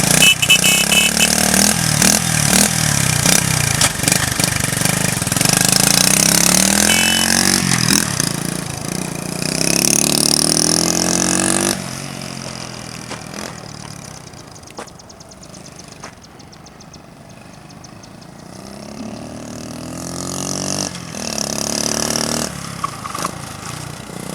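A restored 1970 Honda CT70 motorcycle engine runs loud and close, revving and clattering for the first half, then settling to a quieter, uneven idle with occasional blips.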